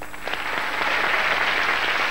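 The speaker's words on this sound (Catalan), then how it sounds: "Este és l'aplaudiment del públic" A studio audience on a Canal 9 TV game show breaks into applause, a full, steady wash of many hands clapping at once, even in loudness and free of talk.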